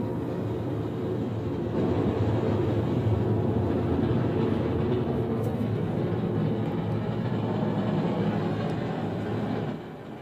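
A deep, steady roar of the space shuttle's three main engines, burning oxygen and hydrogen during launch, sustained and rumbling throughout with no voices.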